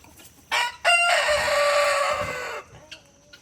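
A rooster crows loudly and close by in one long, drawn-out call, with short clucks and other farm fowl sounds before and after it.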